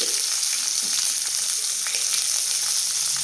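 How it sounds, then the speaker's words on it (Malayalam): Green chili, curry leaves and shallots sautéing in hot oil in a pan for a tapioca dish, a dense, even, continuous sizzle up close with faint occasional stirring. "പച്ചൽ മുളക് കരിവേപ്പില ഇത്രയിട്ട് ഒന്ന് വഴറ്റി കൊടുക്കും"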